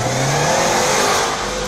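A Subaru car engine revs hard and loud nearby, a sustained high mechanical roar holding steady with a slight dip near the end.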